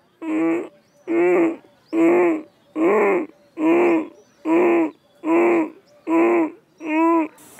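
Short ujjayi pranayama breathing strokes, nine evenly spaced throaty, voiced breaths about half a second each, close and fairly loud with brief pauses between them.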